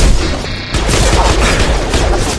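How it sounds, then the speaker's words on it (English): Weapons fire in the sci-fi shooter Mass Effect 2: a loud, dense barrage of rapid shots and impacts running almost without pause, with a brief dip partway through before the volley resumes. "Firing. Impact enemy."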